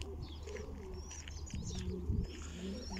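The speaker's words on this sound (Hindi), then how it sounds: "इस तरफ कबूतर हैं और इस तरफ भी कबूतर हैं ये" Pigeons in a Saudi Arabian village coo softly and repeatedly nearby, low throaty murmurs over a constant background hum, with a few faint chirps higher up.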